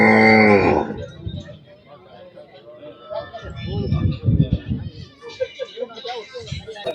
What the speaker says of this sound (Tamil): இங்கே கொஞ்சம் மாடுகள் கட்டியிருக்காங்க